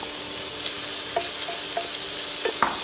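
Microwaved cauliflower rice is spooned into a bowl: a few light, scattered clicks and scrapes over a constant soft hiss, with no voices.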